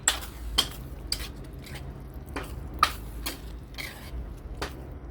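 Spaghetti sauce being stirred in a cooking pan, with a spoon scraping and tapping the pan in scattered, irregular knocks, close and fairly quiet.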